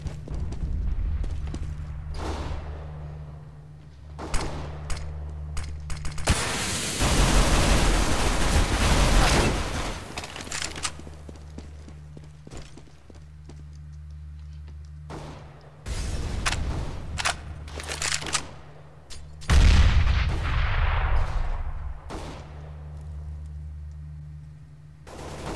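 CS:GO match with a grenade detonating as a sharp, loud burst of noise amid scattered gunshots and a low steady hum, with further crackling bursts and shots following.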